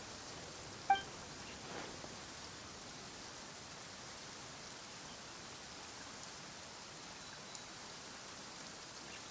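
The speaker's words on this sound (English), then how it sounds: "Why is it raining all of a sudden?" Steady rain falls in the fantasy game Genshin Impact, a soft, even hiss of drops filling the whole stretch with no voices, broken only by a brief faint click near the start.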